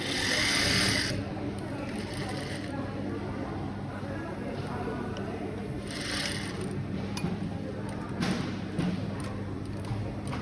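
A sewing machine stitches along the seam allowance of a side seam pocket, running steadily at close range with a continuous whirring hum throughout.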